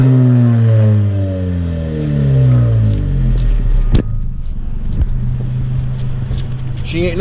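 A Honda Civic engine set up with a KTuner 2-step anti-lag revs and falls with a deep, steady drone, then sharp pops and crackles break in. It sounds close and loud, with a voice talking over it.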